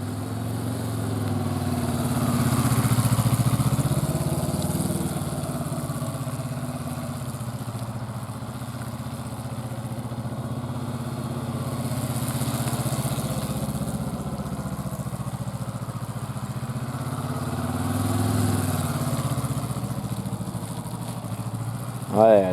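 A motorcycle engine runs at low revs, a steady rumbling idle that swells and eases slightly over time, close by.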